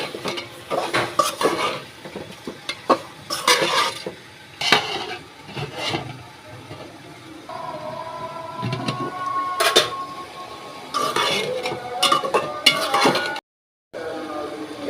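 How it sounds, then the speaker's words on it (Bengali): Chicken is stirred in fried spice paste of turmeric and chili in a pan, with repeated metal utensil scrapes and clanks over a low sizzle. "এখন আমি মুরগিটা দিয়ে দিব।"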